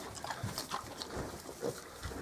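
Mangalica piglets grunt softly in a pen, giving a scattered series of short, low snorts and oinks at close range with no one talking.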